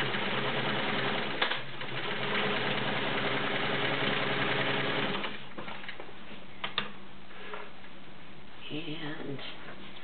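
A vintage Kenmore 1750 sewing machine runs steadily with a close, continuous mechanical whir and needle chatter, and a few small clicks appear partway through.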